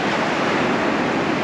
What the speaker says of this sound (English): Walk on down here to the ocean.